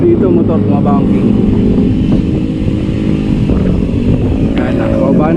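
Motorcycles pass along a night road during a group bicycle loop ride, giving a loud, continuous engine rumble that fills the clip, with voices talking over it.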